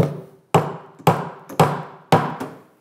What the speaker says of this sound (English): with the hammer.